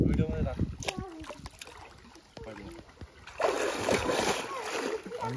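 A girl jumps into a deep swimming pool, and a loud splash with churning water follows after a few seconds of people talking nearby.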